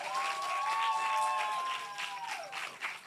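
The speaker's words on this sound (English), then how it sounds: "Can we give them another round of applause?" Sustained audience applause at a girls' summit event fills the room, steady clapping from a large crowd with a faint tonal ringing over it, continuing for several seconds.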